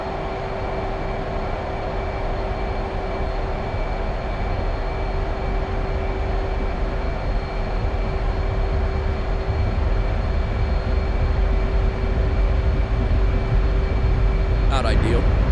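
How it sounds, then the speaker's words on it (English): An F-18 Hornet jet with afterburner engaged on its takeoff roll in the DCS flight simulator, a loud, steady engine roar with a constant whine that builds slightly over time, with talk heard over it. "Go brake off. Pull afterburner."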